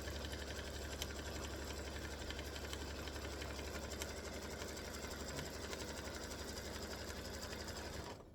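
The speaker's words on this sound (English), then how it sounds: "color stop number 4 is going to stitch the background design, and it does take a little bit for it to stitch" An embroidery machine stitches the background of a football turkey applique block with a steady, rapid mechanical whir. It runs continuously and close by, faint in level, then stops at the very end. No one speaks.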